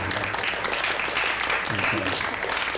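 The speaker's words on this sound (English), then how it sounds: "Give them a round of applause." Audience at a live theater performance giving a round of applause: dense, continuous clapping across the whole moment, with voices audible underneath.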